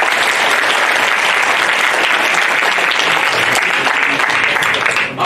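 Loud, dense applause from an audience at a Lions Club community event, continuous sustained clapping filling the whole stretch and cutting off abruptly at the very end.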